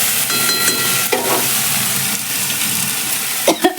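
Mustard and poppy seed paste frying in a pan hisses loudly and steadily, flaring briefly as water goes in, with a few clatters near the end.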